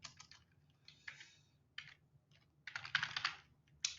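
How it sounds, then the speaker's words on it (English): Emacs key commands are typed on a computer keyboard in quiet, irregular clusters of crisp key clicks separated by short pauses. "Start it again by pressing Control C again and Control C again and write labor."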